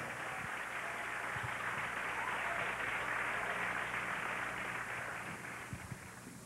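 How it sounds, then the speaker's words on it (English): Audience applause for pageant finalist Christine De Jesus, candidate number five at Mutya ng Pilipinas 2000, a broad continuous wash of clapping from a large crowd that holds steady and then fades slightly at the end. "Let's give her a round of applause"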